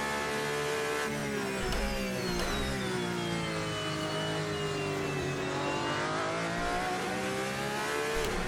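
A Porsche 911 RSR GT race car in a racing video game roars with a loud sustained engine whine rising and falling through gears, rear tires squealing faintly beneath the continuous drone.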